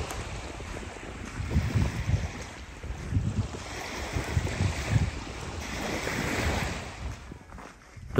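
Surf rolling onto an Irish beach with a fresh sea breeze, a steady wash of waves swelling and receding in broad surges, close and moderately loud, with wind rumbling across the microphone and no voices.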